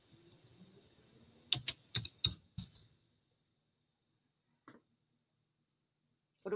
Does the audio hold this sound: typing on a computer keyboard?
yes